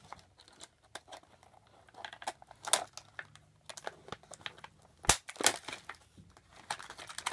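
Scissors snipping small ties on toy packaging, a series of sharp, irregular clicks and cuts close up amid crinkling plastic, quiet with no talk.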